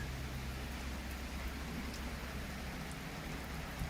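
Steady rain falls in Brisbane during a flood period, a dense, even hiss of drops on surfaces at a low, constant level with no other sounds.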